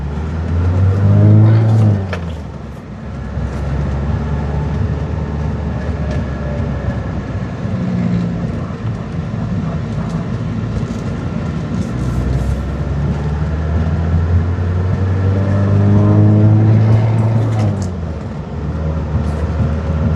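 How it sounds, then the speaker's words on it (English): A 1987 Porsche 944 S drives and shifts through its gears, the engine note rising and dropping between changes, heard from inside the car over a steady road rumble. "Car shifts nice and smooth."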